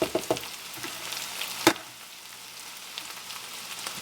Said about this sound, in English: we're going to let it fry another 3 or 4 minutes before we stir again